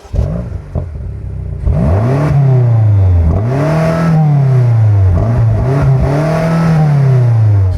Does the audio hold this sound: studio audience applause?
no